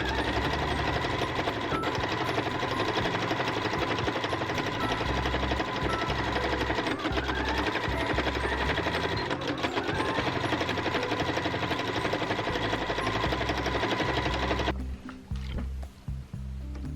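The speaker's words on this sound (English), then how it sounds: "you're going to sew the sides and the bottom, keeping that opening unsewn and then keeping your corners open as well." A sewing machine running fast and continuously, stitching the side and bottom seams of a quilted tote bag, a loud close rattling drone that stops near the end and gives way to handling noise.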